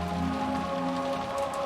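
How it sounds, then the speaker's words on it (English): Steady rain falls throughout as background ambience in the Umineko When They Cry visual novel, a dense, even patter of drops on surfaces with no voices. "pass the time listening to the sound of the rain until tomorrow morning"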